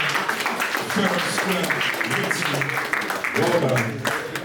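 At a business networking event, an audience claps to congratulate a winner. The steady applause runs through the whole stretch, mixed with talking and cheering voices.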